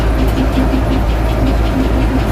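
Massey Ferguson 550 combine harvester creeping in low gear through a soybean field, a steady close engine drone with a low throbbing idle-like rumble and no talk.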